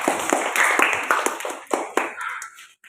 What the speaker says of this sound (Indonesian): beri aplaus bagi kelompok satu